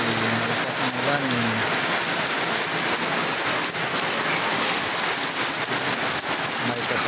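Heavy rain pours down in a dense, steady roar, loud and continuous throughout, with a brief low voice-like murmur near the start.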